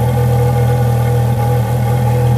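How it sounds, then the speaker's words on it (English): Steady, loud engine drone from a Ferrari 430 with its exhaust valves open, a deep continuous rumble held at even revs throughout, close by and with no speech over it. "You hear those valves open up?"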